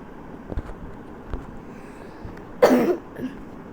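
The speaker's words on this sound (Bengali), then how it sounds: "আমার একটু কাশি আসছে, এটাকে ইগনোর মারবেন" A single sharp cough from a person playing a scary video game, standing out briefly over a low, steady background hum.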